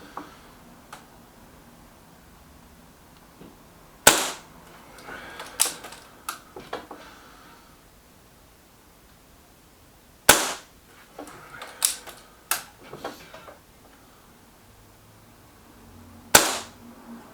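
A BSA Defiant air rifle shooting Barracuda pellets outdoors: three sharp, spaced shots, each followed by a cluster of lighter clicks and clatter from cycling and handling the rifle, with quiet gaps between.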